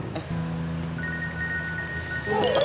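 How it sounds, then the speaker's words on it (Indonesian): A mobile phone ringing indoors amid a busy roadside scene, with a steady electronic ringtone of sustained tones that starts about a second in, continuing over low background hum and picking up a warbling melody near the end. "Ini teh suara HP siapa atuh?"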